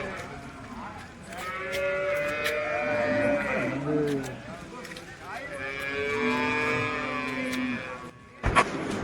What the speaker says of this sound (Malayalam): അപ്പോൾ ഇവിടെ കുറേ ഇപ്പോൾ പശുവിനെയും കാളേനെയൊക്കെ കിട്ടിയിട്ടുണ്ട്